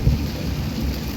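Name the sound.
heavy rain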